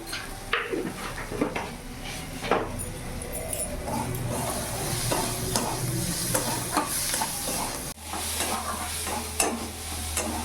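Spoon stirring a bitter gourd stuffing mixture with coriander leaves and a pinch of sugar in a pan, steady scraping and soft sizzle throughout, close and moderately loud, with a brief dip before the stirring resumes.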